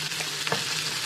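Chicken pieces with green and yellow capsicum are stir-fried over a high flame, producing a short, dense, close sizzle with a faint scrape of stirring and no talking.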